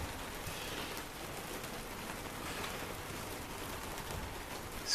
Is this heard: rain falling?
yes